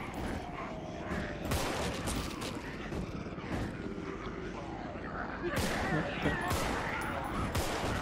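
Dense gunfire in the zombie video game Contagion, with continuous overlapping shots and mechanical clatter over a rumbling game soundscape, loud and sustained with sharper bursts near the end.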